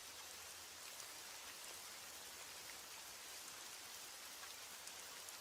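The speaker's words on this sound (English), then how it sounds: "As the rain falls and the night deepens" Steady rain falls at night, an even, dense hiss of drops spattering on surfaces with no breaks or other sounds throughout.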